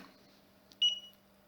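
A single short, clear electronic beep as a Deko LRE 521 laser rangefinder switches on, sounding alone against a faint, steady hum in a quiet room.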